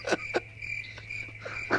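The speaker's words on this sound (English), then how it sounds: "Play some crickets, Ben." Crickets chirp steadily for under two seconds, a continuous high trill broken by a few louder pulses, fairly close and with no speech over it.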